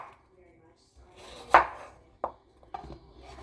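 Knife cutting apples into slices for an apple pecan cobbler, a few sharp chopping thuds on a board at irregular intervals, moderately close, with faint kitchen handling noise between cuts and no talk.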